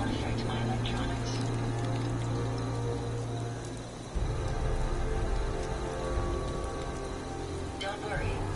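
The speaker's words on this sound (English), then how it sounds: "Oh my, it's raining again." Steady rain falls in the video game Fallout 4, a dense, even patter that fills the whole stretch at moderate loudness.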